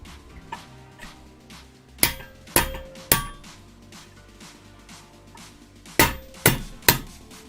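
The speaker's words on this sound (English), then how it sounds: "I need to get my hammer. Start smashing some shit." Sharp, loud hammer blows ring out while a sim rig is assembled, three strikes in quick succession, a pause, then three more metallic hits echoing close up.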